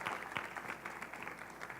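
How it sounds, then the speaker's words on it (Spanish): An audience applauds to welcome a family, a faint, steady patter of clapping heard at a distance for about two seconds. "¿les parece bien que recibamos a la familia de ellos con un aplauso"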